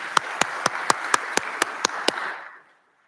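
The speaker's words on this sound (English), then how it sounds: "Please join me in a round of applause to our sponsors" Applause for sponsors at a leadership conference: a soft bed of clapping with a series of about ten evenly spaced sharp claps standing out close to the microphone, ending abruptly after roughly two and a half seconds.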